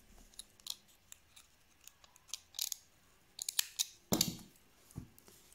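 Scissors or pliers snipping through raffia rope on a handbag-making project, a few short crisp cuts spaced apart, close and faint, with small handling rustles in between.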